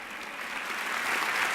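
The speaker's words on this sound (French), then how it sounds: "Ces applaudissements sont pour vous" Audience applause at a TED talk, a dense sustained wash of many hands clapping that swells slightly louder toward the end of a brief burst.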